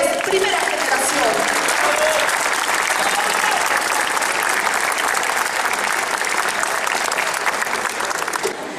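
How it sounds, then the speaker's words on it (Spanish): A crowd gives loud, sustained applause for the founding first-generation members of a university tuna, the clapping dense and unbroken throughout with faint voices and cheers mixed in. "recibamos con un fuerte voto de aplausos a los tunos fundadores, primera generación"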